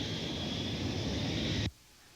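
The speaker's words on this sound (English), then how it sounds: "The plane headed for a runway and took off at 6:12 p.m." A steady broad roar from an airplane taking off, recorded on a home video camera, holds evenly for about a second and a half before cutting off abruptly to quiet background.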